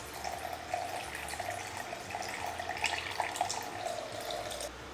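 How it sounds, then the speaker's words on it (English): Water trickles slowly and gently into a surfactant mixture in a small studio, a steady close-up stream with soft bubbling splashes and faint drips, and no one speaks. "Now we're going to add our waters to the surfactants."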